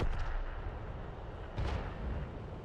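A tank gun fires in a competitive World of Tanks match, a deep booming blast with a rumbling tail and a second thump partway through, heard over steady low game noise.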